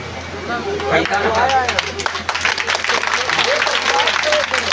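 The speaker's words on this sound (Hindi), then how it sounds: "ताली ऐसा लगाओ कि आवाज निभल कर के बहरे जाए" Audience clapping at a Shrimad Bhagavat Katha religious sermon, a broad wash of many hands that swells and holds steady for several seconds, with voices and crowd murmur mixed in.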